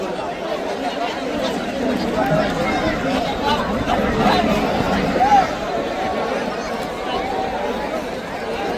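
A large crowd gathers at a bullock cart race after the winning bull's victory. Dense, continuous babble of many voices fills the whole stretch at a steady, fairly loud level.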